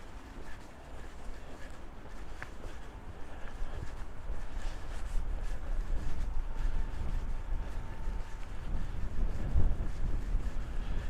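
Wind gusting along Frederiksholms Canal in central Copenhagen, a constant rumbling buffet on the microphone with low thumps, steady and fairly loud throughout, no voices.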